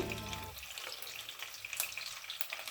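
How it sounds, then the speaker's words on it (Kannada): Egg fries in oil in a pan for an egg curry, a bright continuous sizzle with crackling spatters that follows a brief low sound at the start, heard close and with no talk. "ಎಗ್ದು ಹೊರಗಡೆ ಲೇಯರ್ ಇದೆಯಲ್ಲ ಅದು ಎಣ್ಣೆಲಿ ಸ್ವಲ್ಪ ಫ್ರೈ ಆಗಬೇಕು"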